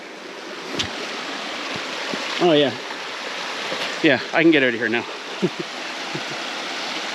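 Floodwater runs out beside an off-grid cabin, a steady rushing flow heard close by and moderately loud, with someone talking over it.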